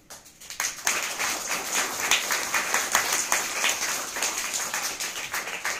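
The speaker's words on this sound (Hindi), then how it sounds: "एक बार जोरदार तालियां।" After a brief quiet start, an audience at a Teacher's Day speech breaks into vigorous applause for teachers, steady crowded clapping with distinct individual claps that keeps going to the end.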